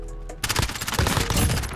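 Rapid burst of video game gunfire in a Modern Warfare match on the Scrapyard map, starting after a quiet moment and continuing as dense, loud crackling shots with possible sniper rifle fire mixed in.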